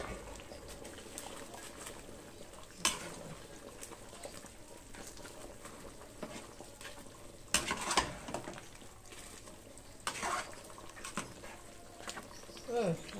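Beef skin crackers (krecek) tossed into a frying pan for rendang, with faint sizzling and a few scraping stirs and clacks of a spatula spread over the stretch, close by and fairly quiet.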